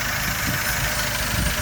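A Toyota 1SZ-FE engine idling with a faint whistle, a steady, dense running drone heard close up with no break or change.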